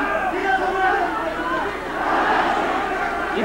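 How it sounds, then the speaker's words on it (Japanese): A boxing crowd at Korakuen Hall during a WBC light flyweight title fight swells and surges in loud, continuous waves of cheering and shouting, with no clear pauses. "一発一発のパンチのたびに後楽園ホールワーワーという波のような歓声が聞こえてまいります。"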